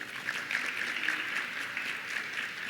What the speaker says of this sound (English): So big clap for yourself.